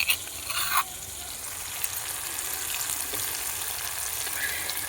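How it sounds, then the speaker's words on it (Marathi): Chopped green chilli and garlic drop into hot oil on a wood-fired clay stove on a terrace, a brief clatter followed by a steady, close hiss and crackle of frying that continues evenly. "आपलं तेल चांगलं तापलेलं आहे आपण मिरची जी बारीक केली होती लसूण तो यामध्ये टाकून घेणार आहे"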